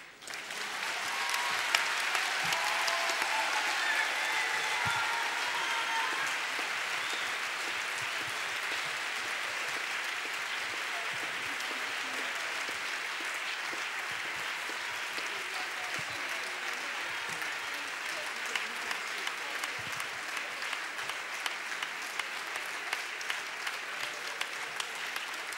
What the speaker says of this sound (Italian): intanto che finiamo di applaudire Gianna